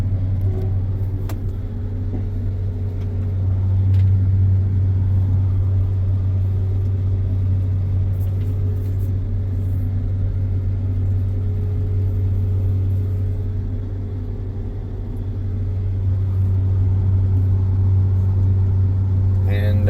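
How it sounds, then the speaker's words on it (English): Combine harvesters driving in from a wheat field, a loud steady low engine drone and rumble that swells and eases slightly, continuous with no clear voices on top. "All the combines are coming in here."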